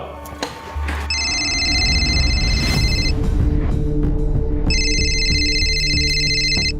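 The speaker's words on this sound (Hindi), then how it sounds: "फोन उठाइए जल्दी जल्दी" A phone rings in two long electronic bursts over a tense musical drone in a Crime Patrol Satark television crime drama scene about a kidnapping call.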